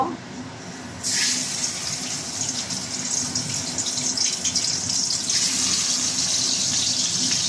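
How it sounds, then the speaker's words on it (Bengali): Katla fish pieces drop into hot oil in a pan, and a sudden loud, sustained sizzle begins about a second in and keeps crackling steadily to the end. "এই যে আমার তেলটা গরম হয়ে গেছে, এই কাতলা মাছগুলো আমি দিয়ে ভেজে নেব।"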